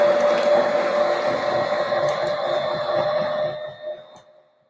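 An 800 watt stand mixer whirs steadily while mixing cookie dough, a loud continuous motor hum with beater churning that runs for several seconds and then winds down to a stop.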